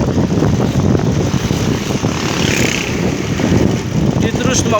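A Vespa motor scooter rides along a village road near Wonorejo, its engine droning loud and steady from close by, mixed with wind rumble throughout.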